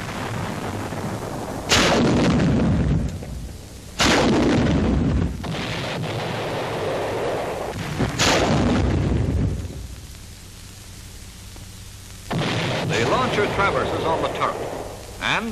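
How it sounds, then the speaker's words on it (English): Smoke rockets fired from a launcher mounted on an armored engineer vehicle, several loud booming launches spaced seconds apart with rumbling tails, under a narrator's voice. "Now, using smoke rockets, the launcher is mounted on the armored vehicle."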